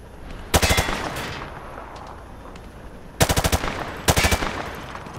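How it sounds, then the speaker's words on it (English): A weapon fired at targets in Call of Duty: Modern Warfare 2, three loud rapid bursts of automatic gunfire, each a quick string of close shots separated by short pauses. "Grab that weapon off the table and fire at the targets behind you"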